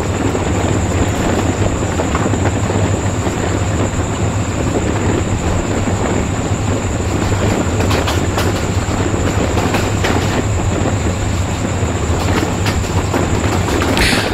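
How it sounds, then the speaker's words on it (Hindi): A train running near Lahore Cantt railway station: loud, continuous rumbling roar with rhythmic clatter of wheels on rails and a steady high whine on top, sustained throughout, close and dominant, no talking. "ये रहा लाहौर कैंट का रेलवे स्टेशन"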